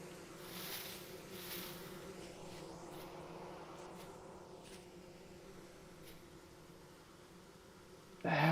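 Bees in the game Vintage Story give a continuous buzzing drone over a low hum. It swells briefly near the start, and a sudden louder burst of noise cuts in at the very end.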